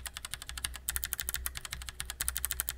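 Fast, steady typing on a Glorious GMMK Compact 60% keyboard fitted with clicky Kailh Box White switches, a dense run of crisp, close keystrokes with no talking.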